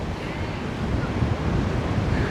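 Steady wind roars across an outdoor microphone, a broad rushing noise with low buffeting rumble, constant and fairly loud throughout.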